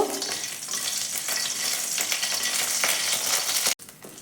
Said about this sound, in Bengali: কড়াতে কিছুটা সর্ষের তেল দিয়ে দিয়েছি এবারে এর ভেতরে আমি শুকনো লঙ্কাটা দিয়ে একটু ভেজে নেব